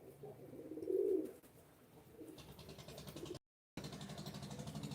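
Pigeons coo softly at a house, with one low cooing call near the start over faint background hum and a quiet engine, the sound briefly cutting out later.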